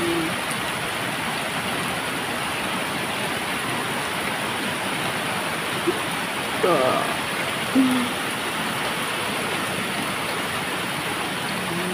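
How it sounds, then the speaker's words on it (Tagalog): Heavy rain in Taiwan drums steadily on a roof, a loud continuous wash of noise, with a couple of brief voices breaking through near the middle. "Lakas ng ulan ng galing sa bubong"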